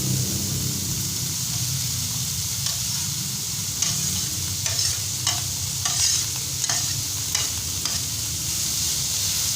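A vegetable filling for spicy fried tofu sautés in a pan, giving a steady hiss of frying. A few soft scrapes and knocks of stirring run across the middle of the sizzle, with no talk.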